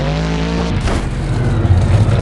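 A monster truck engine roars loud and close during a wheelie at a freestyle tournament in Jacksonville, a sustained rumbling drone that shifts pitch midway and builds toward the end.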